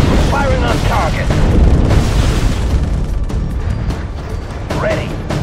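Scorpion tank in Halo Wars fires on a target with heavy booming blasts and mechanical clatter, while unit voices call out over the action.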